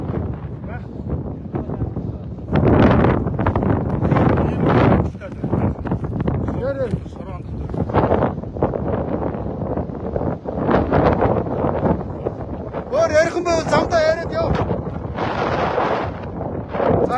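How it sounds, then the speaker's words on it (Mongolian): Strong storm wind buffets the microphone with loud roaring gusts that rise and fall throughout, while people talk over it. "Асрыг шуурхтай байна, салхитай байна."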